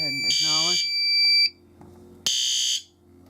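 A fire alarm system under test blares loud electronic tones in two bursts, with a short gap between them, while a person speaks nearby.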